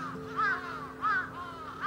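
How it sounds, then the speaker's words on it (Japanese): Crows caw in a few repeated calls at a steady, measured pace, clear against a quiet background with a faint steady hum. "いっぱいカラスがおる。"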